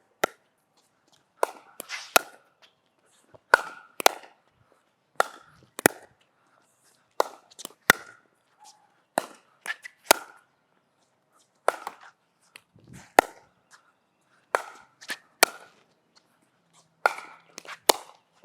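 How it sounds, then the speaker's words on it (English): Pickleball paddle striking the ball during defensive lob practice from midcourt, sharp hollow pops repeating in pairs and small clusters every couple of seconds, close and clear against a quiet court, no talking. "getting a feel for how much I need to put on this ball to execute a good defensive lob"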